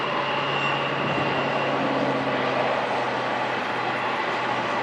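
A long freight train of mostly empty containers, pulled by only a few engines, rumbles past in a steady continuous roar with a low sustained hum, close and fairly loud throughout, with no talk.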